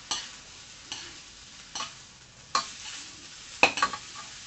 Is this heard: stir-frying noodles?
yes